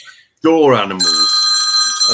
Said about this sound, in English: that's my phone going.